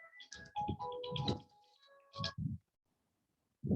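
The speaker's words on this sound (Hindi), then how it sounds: "एक मिनट, हाँ मेरा फोन आ रहा।" A phone ringtone plays as a bright, repeating melodic tone in short bursts, close and clear, then cuts off into silence before a brief sound at the end.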